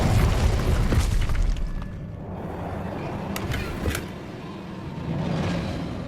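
An Incendio fire spell bursts in the Hogwarts Legacy video game, a heavy whooshing blast that fades into rumbling ambience, followed by a couple of sharp crackling pops.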